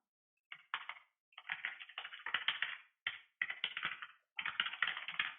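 Quick bursts of typing on a computer keyboard while writing a message, a run of close, crisp key clicks broken by short pauses, with no voice over it.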